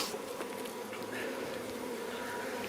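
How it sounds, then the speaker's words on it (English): Dense, steady buzzing of many honeybees at an opened hive, a continuous close-up drone filling the whole stretch without a break. "that's a lot of bees"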